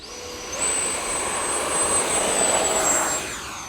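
An FMS Dassault Rafale RC jet with an 80mm electric ducted fan spools up, a rising whine that climbs to a steady high-pitched shriek and holds for a few seconds before easing down, loud and close.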